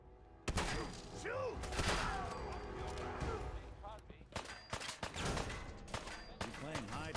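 Gunfire in the Fallout 4 video game: several sharp shots and bursts mixed with thuds, ringing impacts and game sounds, with voices talking over parts of it.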